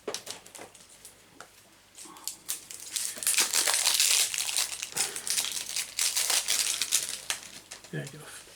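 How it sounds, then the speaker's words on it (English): Plastic wrapping crinkles and tears as a pack of Warcry cards is opened, a close, busy rustle that builds up in the middle and continues with scattered crackles. "So I'm going to open these cards up."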